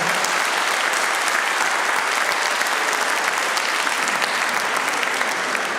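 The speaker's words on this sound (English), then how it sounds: "Can you give them all a massive round of applause?" Loud, sustained audience applause at an awards day honouring winners and nominees, a dense wash of clapping hands that holds steady throughout without a break.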